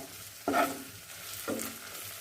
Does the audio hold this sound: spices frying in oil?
yes